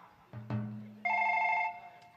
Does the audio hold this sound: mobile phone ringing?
yes